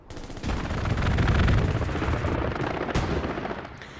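An aircraft strafing run in the WWII shooter Hell Let Loose lays down a dense, sustained roar of machine-gun fire for several seconds, loud and rumbling with distant shots mixed in, then tails off; no one speaks.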